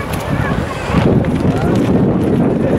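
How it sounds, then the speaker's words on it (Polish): Steady wind buffeting the microphone outdoors by the Vistula River, a constant low rumble with faint voices in the background. "Bo jest wiatr, więc dobry jest dla żaglówek."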